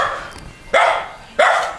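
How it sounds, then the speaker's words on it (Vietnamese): Two loud, close barks from a dog in a rural village, sharply spaced about half a second apart, each with a quick rising onset and a trailing tail, following a fainter earlier yelp. "Im lặng, trời ơi, sủa to thế."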